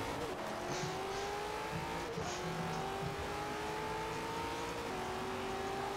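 A Drag Tyre Boneshaker car races in Forza Horizon 4, its engine climbing steadily in pitch through gear after gear with brief shift dips, a constant loud drone and no talking.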